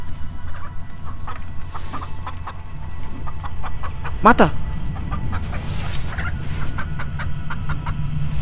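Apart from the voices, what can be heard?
chicken clucking in a video game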